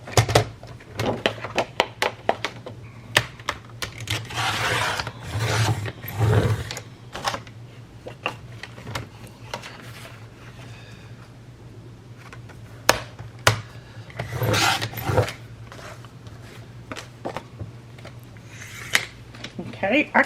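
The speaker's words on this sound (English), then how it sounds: "I'm just going to mark it, and then I'll use my trimmer and trim it off." A paper trimmer slicing a strip of paper for a file folder journal, giving scattered sharp clicks and sliding cuts spread across a long stretch of quiet room noise with a steady hum.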